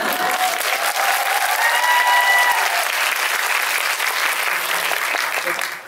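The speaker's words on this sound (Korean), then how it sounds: "이런 게 바로 자연산 박수" Spontaneous audience applause at a film talk event, loud sustained clapping from a packed crowd that holds steady for several seconds before easing slightly, with a faint voice briefly audible beneath it.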